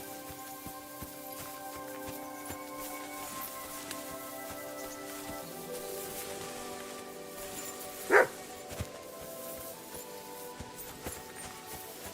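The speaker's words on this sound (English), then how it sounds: "Barking. He's coming from over there." A dog barks once in the medieval video game Kingdom Come: Deliverance 2, a single sharp bark rising over a steady bed of game music and ambient patter, moderately distant.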